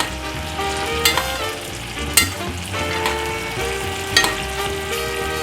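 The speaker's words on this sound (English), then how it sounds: "As you can see, the heat has died down, so it's not sizzling as much anymore." Australian Wagyu picanha steaks sizzle steadily in a hot pan, a constant close crackle with a few sharper pops, and no voices.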